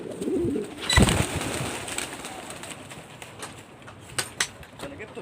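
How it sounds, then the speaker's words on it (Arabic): Pigeons coo softly alongside chirping sparrows in a rooftop loft, with a loud clatter near the start, someone talking at times and scattered bird calls continuing in the background. "اهو حمام وعصافير يا رجاله"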